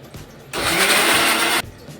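A kitchen blender whirs loudly for about a second, grinding ingredients into a paste, then cuts off abruptly, with quieter room sound before and after.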